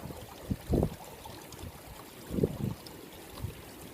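Water trickling in a small stream near Derwent Reservoir in North East England, a gentle wash with a few louder splashy gurgles, close and moderately quiet, no voices.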